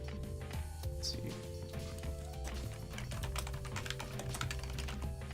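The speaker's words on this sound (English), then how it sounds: "Right now I'm just typing on the work log off on the second monitor." Steady typing on a computer keyboard at a desk during a coding stream, a fast irregular patter of key clicks over a constant low electronic hum, with no talking.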